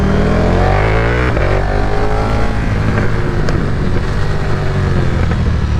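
A flashed motorcycle engine, either a 2022 KTM Super Duke R or an Aprilia RSV4, drones loudly and close with a sustained, throaty roar and shifting rev pitch, steady and unbroken for several seconds.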